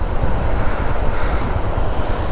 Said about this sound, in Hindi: बहते पानी को देख के ही तसल्ली मिल रही है।